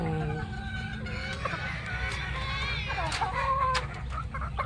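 A Dan Gray gamefowl rooster and its kin cluck in rapid, warbling bursts with a short crow nearby, over a low background hum and faint farmyard noise.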